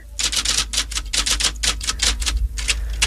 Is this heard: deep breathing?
no